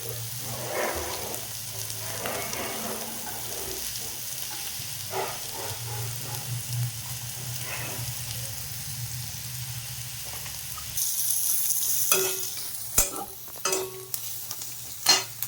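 Spices and cumin powder fry in a pan for Indian-style masala pasta: a continuous sizzle with spoon scrapes and stirring clatter, growing louder and hissier near the end, with no voices.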